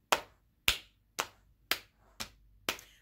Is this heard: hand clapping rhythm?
yes